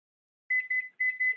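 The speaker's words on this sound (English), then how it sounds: "we're going to set the timer and get it going" Kitchen oven timer beeping in two pairs of sharp, steady electronic tones after a moment of silence, close and clear.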